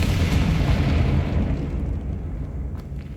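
A Confringo fire spell bursts in Hogwarts Legacy, a loud deep boom with a rumbling blast that slowly fades over a few seconds, heard alone without talk.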